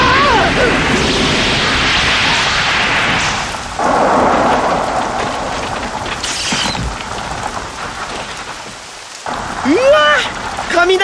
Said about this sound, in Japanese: 雷こんな近くで見たの初めてだ。